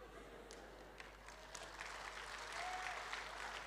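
An audience at a Pentecost church sermon claps, quiet scattered applause that builds slightly toward the end, with a faint voice underneath.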